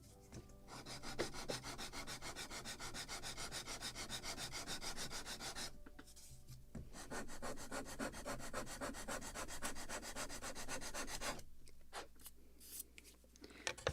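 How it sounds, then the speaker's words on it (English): Sandpaper rubs rapidly back and forth on the small wooden ends of a model ship deck from a 1776 gunboat kit, with fine rhythmic scratching strokes in two long close runs separated by a brief pause. "And now I need to sand more ends."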